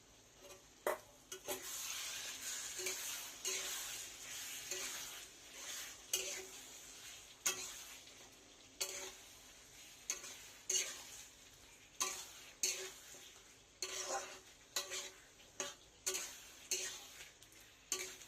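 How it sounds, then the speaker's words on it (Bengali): Ginger, garlic and spices frying in a pan for a fish, aubergine and potato curry, with a steady faint sizzle broken by repeated scraping strokes of a spatula, close by but quiet. "মশলাটা কষুক।"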